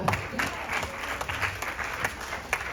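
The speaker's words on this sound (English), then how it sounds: "Please give him a big clap." An audience at a Ganesh Chaturthi festival night claps in a steady, fairly dense patter of applause, moderately distant and even throughout.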